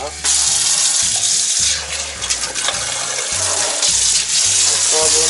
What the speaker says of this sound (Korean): 수압 체크 한번 해보겠습니다.